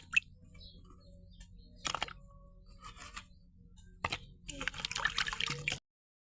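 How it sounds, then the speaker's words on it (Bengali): Pesta potatoes are washed by hand in water for a village recipe, with scattered splashes and sloshing bursts that grow busier toward the end, close and alone. "প্রথমে পেস্তা আলুটা এভাবে ধুয়ে নেব পানিতে।"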